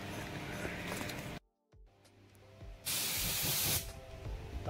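Glue sprayed onto fabric in a foam mattress factory, a steady hiss that stops briefly and then returns as a louder, brighter spray burst, over factory background noise.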